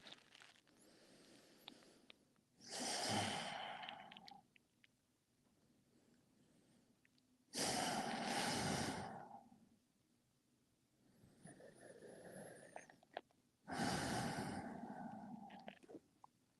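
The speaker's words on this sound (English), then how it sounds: "breathing deep." Slow, deep breaths taken during a yin yoga pose, three long, loud breath bursts separated by quiet pauses, close to the microphone, with no talking.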